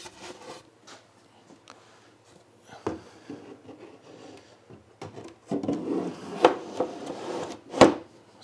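Wooden shelf of a handmade shoe rack sliding into place, producing intermittent rubbing and scraping wood sounds that grow louder and end with a sharp knock, nearby and without talk.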